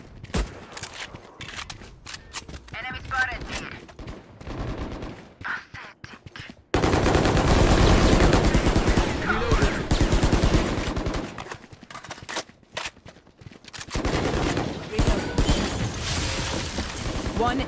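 Rapid gunfire bursts and automatic weapon fire crackle in a shooting video game, alternating with quieter stretches, footsteps and a player's voice talking over the action.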